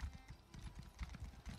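Rhythmic clip-clop of horse hooves at a steady trot in the video game Elder Scrolls Online, quiet and even, with no other sounds.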